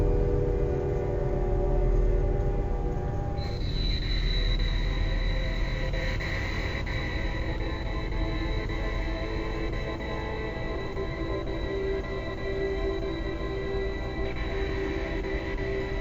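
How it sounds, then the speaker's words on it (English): A train rolls by in the background with a continuous low rumble, and a long horn-like tone holds for most of the passage. The sound is steady and fairly loud, with no talking. "Also, please excuse the train in the background."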